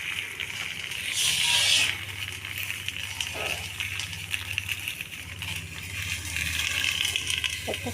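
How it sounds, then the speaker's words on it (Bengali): Water is poured into a pan over fish patori, a short gushing splash that rises quickly and then tapers off into a low, steady background simmer. "ওপরে আমরা পরিমাণ মতো একটু জল দিয়ে দিলাম যাতে মাছটা সিদ্ধ হয়ে যায়।"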